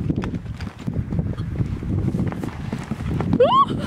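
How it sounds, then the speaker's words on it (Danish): A horse canters with a calm, rolling rhythm, hooves thudding steadily on soft ground nearby, with a brief high whistle-like sound near the end. "Det gør, at du har sådan en rolig galop, Nana."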